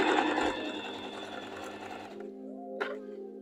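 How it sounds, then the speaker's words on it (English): Sewing machine running a straight stitch through cushion fabric at stitch length 4 and tension 4, a steady close mechanical hum and whir for about two seconds, then stopping, followed by a brief click. "I'm using stitch length 4 and tension 4, and I'm using a straight stitch."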